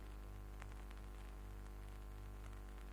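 Steady radio static hisses through a scene in a Biggles air-adventure radio drama, a continuous crackly noise over a low mains-like hum with faint intermittent clicks, with no voices present.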